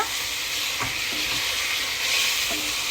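Large chicken pieces frying in a pan for Bangalore-style donne biryani, stirred with a spoon: a loud, dense, steady sizzle with occasional scraping knocks, close by and without talk.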